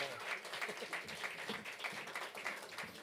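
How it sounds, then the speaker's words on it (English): Audience applause for a pianist at a Broadway-style show, with a room of hands clapping in a loose, rhythmic patter at moderate distance, and voices faintly mixed in. "Big round of applause."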